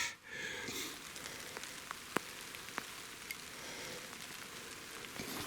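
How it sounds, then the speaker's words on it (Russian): Steady rain patters on surfaces along an abandoned railway embankment near Vyborg, with occasional sharper drips and drops standing out from the constant hiss. "А дождь все сильнее и сильнее."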